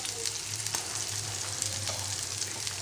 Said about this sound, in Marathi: हे आता फ्राय करून घेऊ आपण